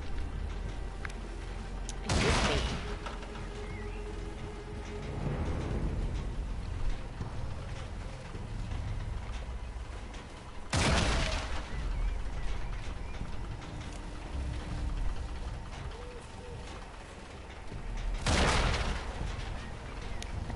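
Three loud explosions go off in a video game, spaced several seconds apart, each a sharp booming burst that fades into a low rumbling ambience.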